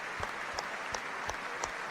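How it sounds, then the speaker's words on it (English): A stadium crowd at Ashton Gate claps together during a rugby match, steady distant rhythmic applause with no voices standing out. "Ashton Gate rises as one"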